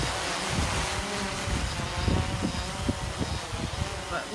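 Steady, gusty wind buffets the microphone outdoors while a quadcopter drone flies, a dense rumbling roar running through the whole stretch with no other distinct sounds.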